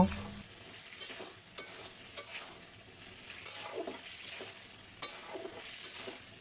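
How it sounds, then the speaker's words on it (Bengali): Mixed vegetables fry in a pan and are tossed and stirred, producing a soft, steady sizzle broken by occasional light scrapes and taps of a spoon, close and without speech. "সব সবজিগুলো দিয়ে এখন আমি খুব ভালো করে নেড়ে চেড়ে মিশিয়ে নিব"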